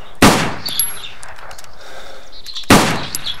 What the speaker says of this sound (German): ich glaube daneben geschossen